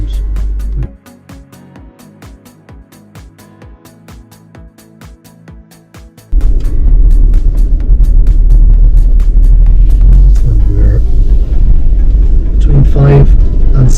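Ineos Grenadier off-roading in first gear and low range with the centre differential locked, a steady low engine rumble that jumps sharply louder midway and stays loud and close, with voices talking over it.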